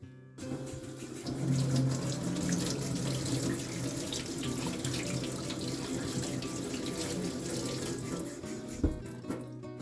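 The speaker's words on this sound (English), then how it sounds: "Don't forget to always wash your vegetables." Tap water runs steadily into a kitchen sink while vegetables are washed for a fajita rice dinner, a continuous close splashing hiss with a brief clatter near the end and no talking.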